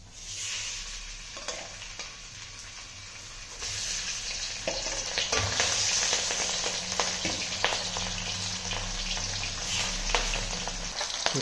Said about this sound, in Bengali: তো এই যে সব মাছগুলো নুন হলুদ মাখিয়ে রেখে দিয়েছি, এবার ভেজে নিই।